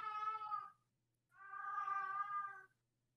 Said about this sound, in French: Pourquoi il miaule de même?